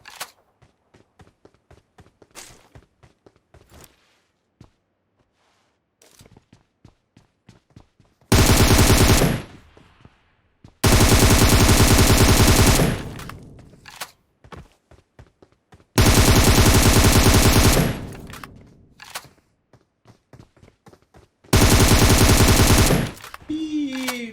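Long bursts of automatic gunfire in PUBG Mobile, four loud sustained volleys separated by quieter stretches of scattered single shots and footsteps, close and dominant.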